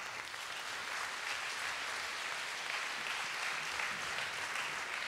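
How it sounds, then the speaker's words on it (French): Audience applause for students after a thesis-in-180-seconds event, a continuous, fairly distant and even wash of clapping hands from a large room with no voices over it. "je crois que vous pouvez tous vous applaudir"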